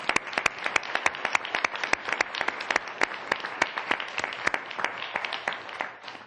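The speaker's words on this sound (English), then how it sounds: "So let's all give Dr. Routledge a big round of applause." Applause at a city council meeting in Coquitlam, with a modest number of people clapping in a fairly even rhythm, individual claps standing out, before it fades at the end.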